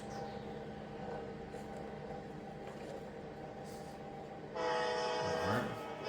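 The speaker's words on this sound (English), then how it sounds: "NS train rolling by on the rail cam in the background" A Norfolk Southern freight train rolls past in the background, a steady rumble with a horn-like tonal blast near the end, moderately loud and continuous, with no talking.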